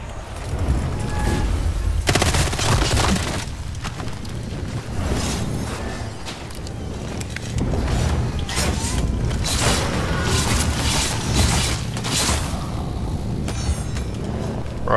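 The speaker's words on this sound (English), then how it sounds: "Bro had a grenade launcher and missed the shot on me" Grenade launcher shots and explosions in Vampire: The Masquerade – Bloodhunt, repeated booming blasts and gunfire in dense, loud combat noise, with little talk.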